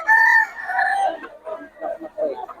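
A young gamecock stag about ten to eleven months old, Black Macrae bloodline, crows once in a drawn-out call that breaks into rough, fading syllables, loud and close at a rooster farm.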